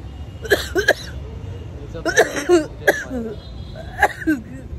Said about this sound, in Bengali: ও বাবা রে, আমার কাশি হয়ে গেল পুরো